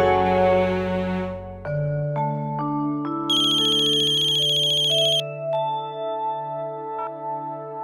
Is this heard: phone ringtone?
yes